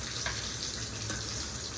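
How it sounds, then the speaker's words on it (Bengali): Chopped ginger and green chili fry in oil for a vegetable biryani made without onion or garlic, giving a brief, steady, close sizzle. "এবার এগুলোকে ভালো করে ভেজে নেব।"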